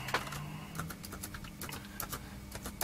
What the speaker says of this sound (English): I'll get onto the old laptop and just type.